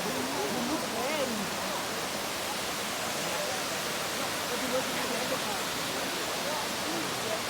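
Waterfall at the Johannesburg botanical gardens, a steady broadband rush of falling water filling the whole stretch, with a voice faintly audible beneath it.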